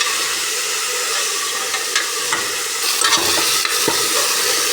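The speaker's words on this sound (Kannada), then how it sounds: "ಆಲೂಗಡ್ಡೆ, ಬದನೆಕಾಯಲ್ಲಿ ಚೆನ್ನಾಗಿ ಫ್ರೈ ಆಗಬೇಕು" Potatoes and eggplant fry in a pan for a sprouted horse gram sambar, giving a steady, close sizzle broken by light stirring scrapes.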